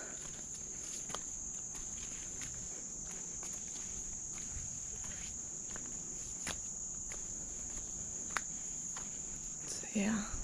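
Crickets and other insects chirp steadily in summer woods beside a Kentucky wetland, a continuous high trill with occasional soft footsteps and rustles over it and a brief close movement near the end.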